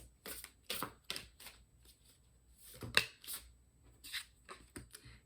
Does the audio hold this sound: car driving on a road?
no